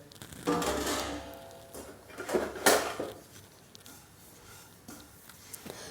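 White sesame seeds are poured into a pan on a gas stove and stirred for roasting, giving several scattered bursts of rattling, scraping clatter against the metal with quieter gaps between.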